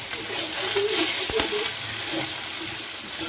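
Ginger and garlic frying in a hot pan, a steady close sizzle with a brief stir or scrape partway through.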